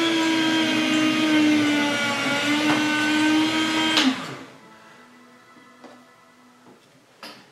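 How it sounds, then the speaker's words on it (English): A meat slicer runs with a loud, steady motor whine, slicing deer meat for jerky, then is switched off at about four seconds and winds down, leaving faint clicks and a few sharp knocks. "We're going to turn it on and begin slicing our meat."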